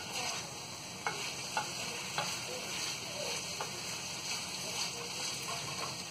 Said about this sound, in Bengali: এখন আমি একটু নেড়ে দিব।